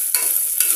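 Carrots and mixed vegetables frying in hot oil, two short stirring scrapes over a steady close sizzle, no voices.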